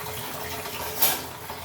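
A kitchen strainer being rinsed under running tap water, a soft continuous splashing wash with a brief brighter spurt midway, fairly quiet and close.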